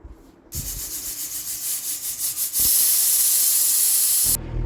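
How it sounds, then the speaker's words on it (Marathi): A loud, steady hiss of steam from a pressure cooker whistle bursts out after a softer rushing sound, continuing strongly for a couple of seconds before cutting off abruptly. "कुकरला झाकण लावा आणि तीन शिट्ट्या करून घ्या"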